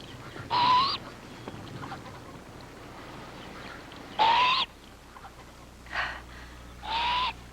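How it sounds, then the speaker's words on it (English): A great horned owl hoots four times in short, spaced bursts, fairly near and loud, with quiet pauses between calls and no talking. "A great horned owl."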